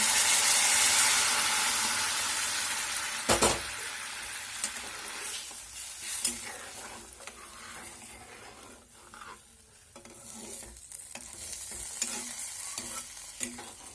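Hot water poured onto spices frying in a pan for a sour Assamese fish curry, with a loud opening hiss that settles into a steady sizzle and bubbling, plus a sharp stirring clatter near the start and scattered small knocks later.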